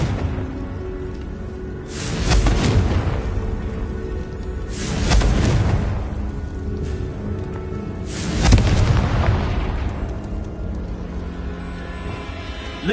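Spell blasts in a Hogwarts video game: three deep, booming explosions a few seconds apart, each swelling and rumbling away over a low ambient background, with no talking.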